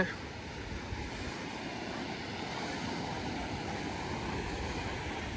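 Steady rushing water roars continuously at a beach in the United States, a broad wash of surf-like noise with some wind buffeting, constant and fairly loud throughout.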